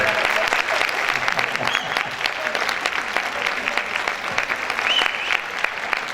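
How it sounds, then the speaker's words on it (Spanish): A school anniversary audience at the IES Nieves López Pastor in Villanueva del Arzobispo claps warmly and continuously, a full, close round of applause with scattered individual claps poking through and faint crowd murmur beneath. "Un aplauso."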